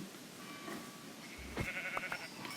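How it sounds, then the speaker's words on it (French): A sheep in a forest survival video game gives a few short, wavering bleats over a steady ambient hiss, fairly faint and nearby. "Ça c'est un mouton."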